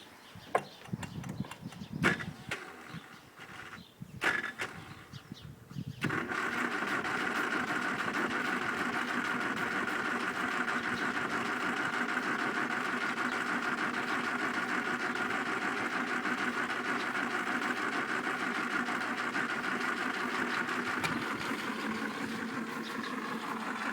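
An old Toyota Corolla KE30 engine is started after sitting for years: a few short clunks and bursts, then a long steady cranking drone from the starter motor that runs without cutting out, fairly faint, with no talk.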